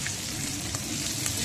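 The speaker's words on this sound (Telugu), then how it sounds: "ఇలాగా పక్కన బాండి పెట్టి అందులో బెండకాయ ఫ్రై" Okra frying in a kadai, a steady dense sizzle and crackle of oil close up, with no talking.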